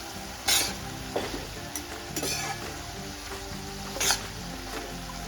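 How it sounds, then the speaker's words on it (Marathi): Valachi (field bean) vegetable with turmeric and coriander powder being sautéed in a pan, giving a steady close sizzle with intermittent scraping stir strokes, no voices. "आता आपण हे परतून घेऊया अगदी व्यवस्थित।"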